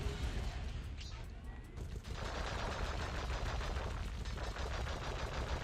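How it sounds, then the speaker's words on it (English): Cannon fire in the video game Sly Cooper and the Thievius Raccoonus booms in a dense, continuous barrage, loud and crackling with rapid repeated blasts and hardly a break. "how loud the firing of the cannon is"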